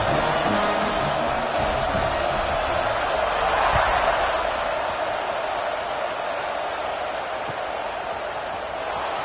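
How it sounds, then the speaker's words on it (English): In a football video game, a stadium crowd buzzes after a score as a steady wash of distant, blended cheering and murmur, fairly quiet and unbroken for about nine seconds. "this crowd is buzzing after that last score"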